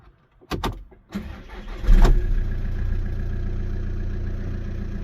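A used car engine cranks with a few sharp clicks, then catches on a cold start and settles into a steady, rumbling idle close by.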